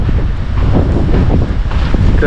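Loud wind roars and buffets the microphone in continuous gusts, a heavy rumbling rush that does not let up.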